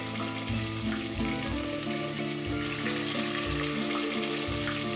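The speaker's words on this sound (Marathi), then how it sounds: "हा मसाला असा 5 मिनिटे भाजत रहा" A steady, loud sizzle of spice masala roasting in oil in a hot pan, continuous throughout, with faint background music-like tones underneath.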